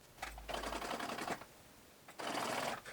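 A sewing machine stitches elastic onto fabric in two quick, rapid-fire bursts of mechanical clatter with a short pause between, close and clear, with no talk.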